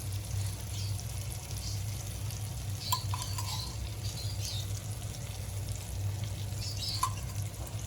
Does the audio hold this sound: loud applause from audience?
no